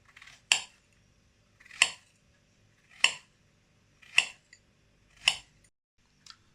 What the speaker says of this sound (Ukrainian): Доріжемо гарбуз, який залишився. Ось на такі куточки.